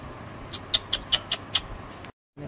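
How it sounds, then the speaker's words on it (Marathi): A quick run of six short, high cat calls in steady succession, fairly faint, then a brief silence. "मांजर बघा मांजर"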